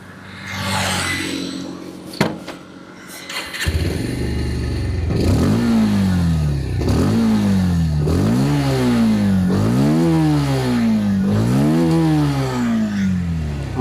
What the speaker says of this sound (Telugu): ఒకసారి మనం దీని యొక్క ఎగ్జాస్ట్ సౌండ్ చూద్దాము